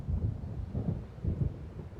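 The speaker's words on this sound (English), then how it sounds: "It seems there's a storm coming." Low rolling thunder of an approaching storm in the video game Alan Wake Remastered, two deep rumbling swells in quick succession, heavy and close, with no voices.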